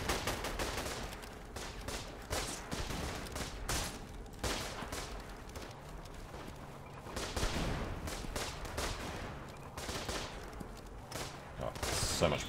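Scoped G98 rifle fire in a WWI trench shooter: repeated sharp shots at irregular intervals, mixed with a steady crackle of more distant gunfire, at moderate loudness throughout, with occasional faint speech underneath.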